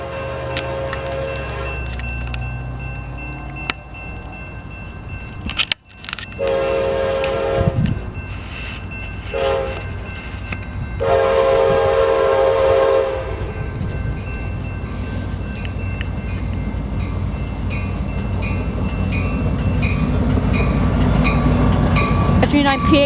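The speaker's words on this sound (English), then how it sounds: "Here's Amtrak number 719 to Oakland Jack London Square, arriving to Modesto, California Amtrak Station." Amtrak train 719, led by F59PHI locomotive number 2004, pulls into the Modesto, California station, with a loud horn sounding in repeated blasts, then a steady rumble of cars rolling past close by.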